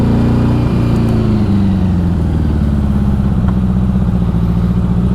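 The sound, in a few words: 1984 Honda Goldwing motorcycle engine running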